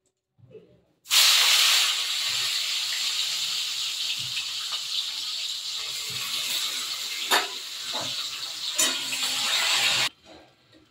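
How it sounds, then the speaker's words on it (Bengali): Katla fish wrapped in pumpkin leaves frying in a hot pan, a loud continuous hissing sizzle that starts abruptly, carries a few crackles and pops, then cuts off sharply, with no voices. "বাকিগুলোও কিন্তু আমি ঠিক এইভাবেই ভেজে নেবো।"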